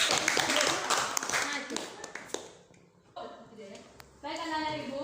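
Classroom clapping from students after a drama lesson, a burst of scattered hand claps over the first couple of seconds, followed by quieter moments and voices talking.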